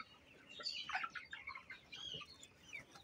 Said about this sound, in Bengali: নিচে মুরগি দেখা যায়।